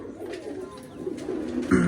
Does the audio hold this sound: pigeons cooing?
yes